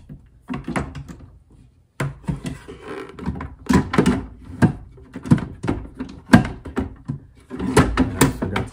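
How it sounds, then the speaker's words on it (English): A drawer on roller slides is pushed back into its cabinet after adjustment, giving a series of close, loud thunks, rolling clatters and knocks with short pauses between them and no talking. "Now we're gonna put our drawer back in, see how we're doing."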